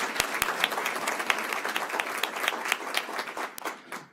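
A board meeting audience claps in a round of applause, with individual sharp hand claps standing out from the steady patter before it thins toward the end.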